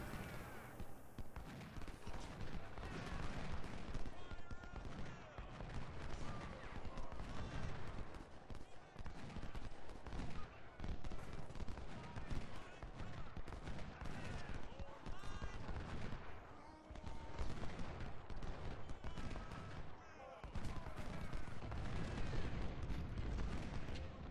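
Artillery fire from 24-pound howitzers in the Ultimate General: Civil War video game: a dense, continuous barrage of booming cannon and gunfire that roars steadily throughout, with a possible voice underneath.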